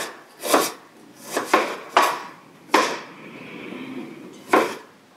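A knife cuts through cucumber for pickling in several separate crisp strokes, roughly one every second, close and fairly loud, with a faint scraping sound between the cuts.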